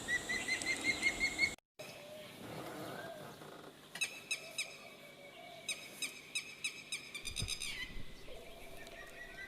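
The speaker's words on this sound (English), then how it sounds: "Can you hear this bird? It's constantly calling. It's a red wattle lapwing." A red-wattled lapwing repeatedly calls in sharp, insistent notes at a distance, with flapping and rustling outdoors in a tiger reserve in India, and no talking.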